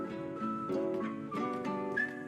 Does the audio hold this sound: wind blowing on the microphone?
no